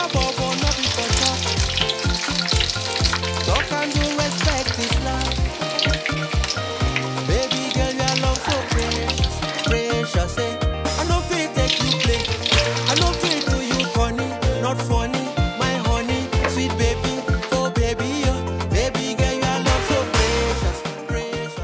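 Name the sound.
tuna croquettes frying in a pan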